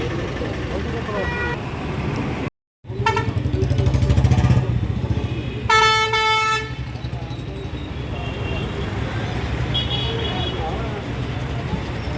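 Truck-style pressure horn fitted on a tractor sounds in a few loud tonal blasts over road traffic, one brief and a longer one later, with a fainter honk near the end and people talking throughout.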